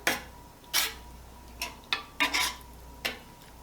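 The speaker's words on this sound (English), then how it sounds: "Make sure you mix it really good." Crushed tomatoes with basil from a 28 ounce can are stirred into pasta sauce, giving six or seven sharp, irregular clinks and scrapes of a utensil against the pot over a quiet background.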